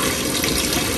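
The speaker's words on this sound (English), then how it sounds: "I had that water on like that during the video" Tap water runs steadily in a kitchen sink while steaks and rice are being cooked, a constant close, loud rushing splash that continues unbroken with no voices.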